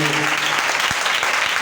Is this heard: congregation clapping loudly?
yes